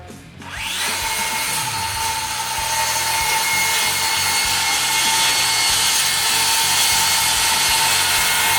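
A Dewalt 60V wormdrive rear-handle circular saw spins up and cuts through wood, a loud, steady high whine with a harsh sawing rasp that holds for several seconds after the brief start.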